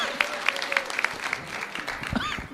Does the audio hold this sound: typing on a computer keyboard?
no